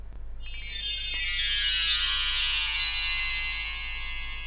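A shimmering wash of chimes rings out together after a brief pause, sustaining brightly and slowly fading over several seconds, heard on their own.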